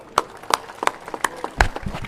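A crowd at a Haryana political rally claps to welcome a guest onto the stage, with sparse, separate hand claps landing at an uneven rhythm and moderate loudness.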